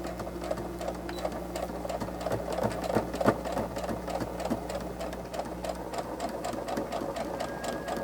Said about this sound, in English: And now I'm gonna stitch.